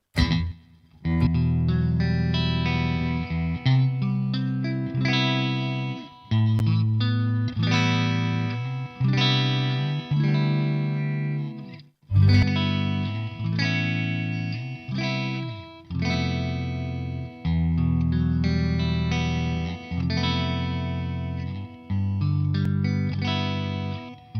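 An electric guitar played through a Revv Generator 120 Mk3 amp with reverb, sustained strummed chords ringing out with a lush, washy tail, loud and continuous with no talking.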